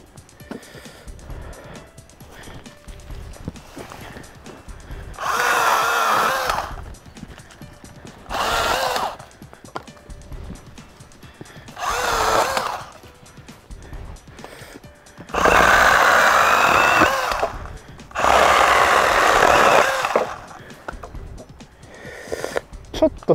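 A Makita cordless handheld chainsaw cuts wood in five separate bursts of high buzzing, each a few seconds long with quiet pauses between, close and loud, with someone talking now and then.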